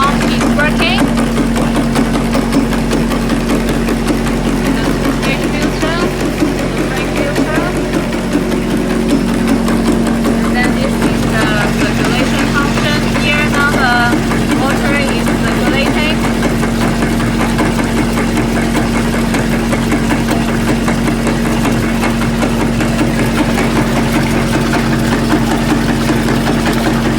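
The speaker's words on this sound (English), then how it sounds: "Now the pneumatic diaphragm pump is working." A pneumatic diaphragm pump runs on a 50-litre perfume making machine, a loud steady mechanical drone with a constant hum and faint rhythmic knocking throughout.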